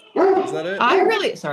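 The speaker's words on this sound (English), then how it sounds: "that's my dog. There's a delivery man." A dog barks at a delivery man at home, loud close yips and barks in repeated bursts, with a person speaking briefly over the barking.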